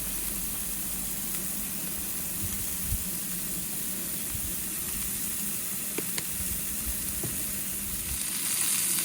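Burger patties seasoned with Montreal steak seasoning sizzle on a camping grill outdoors, a steady hissing fry, even and moderately quiet, with a couple of faint clicks and no talking.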